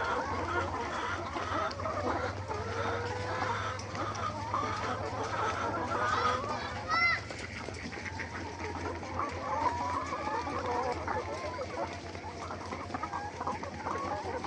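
Layer hens on a poultry farm clucking continuously, a dense flock murmur with scattered individual calls over a low steady hum, moderately faint.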